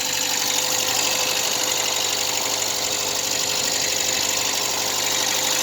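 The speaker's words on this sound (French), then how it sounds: "Par contre ça fait un peu du bruit côté pompe à eau" A 1989 Renault Super 5 GTR running on 100% ethanol idles steadily nearby after a cold start at minus five degrees, a constant mechanical hum with a faint rhythmic ticking and whine on top from the water pump.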